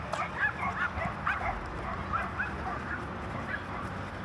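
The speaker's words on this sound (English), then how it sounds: "we got the barky dogs again" Several dogs bark, yip and whimper in a scattered, irregular series, moderately distant over steady outdoor background noise.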